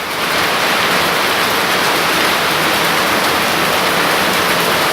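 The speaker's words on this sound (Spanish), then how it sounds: "Está granizando." Hail falling in Puente Alto, Santiago, a dense, loud, continuous hiss of ice pellets pelting surfaces, steady throughout with no talk.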